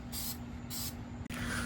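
Aerosol spray paint hisses in two short bursts onto a homemade Captain America shield, then a click and a longer, softer stream of spray follows, close and steady over a low background hum.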